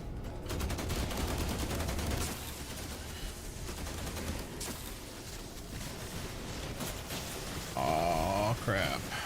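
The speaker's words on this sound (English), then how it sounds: "Why is the angel shooting at me?" Gunfire from an angel enemy in The Last Caretaker, sustained rattling bursts of shots and impacts that keep going for several seconds, with a man's grunts and a sharp burst of noise near the end.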